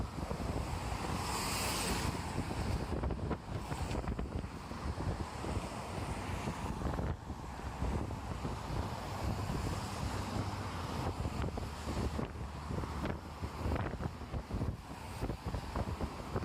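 Steady breezy wind buffets the microphone outdoors beside an underground dark stream, a continuous roaring rush that rises and falls in gusts, with no talking.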